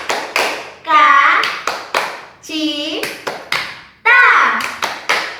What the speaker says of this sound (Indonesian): sama-sama tepuk tangan sukacita.